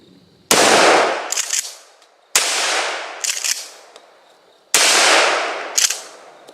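A Remington Tac-14 12 gauge pump shotgun fires birdshot three times, each loud close blast followed by the clack of the pump action cycling, with about two seconds between shots.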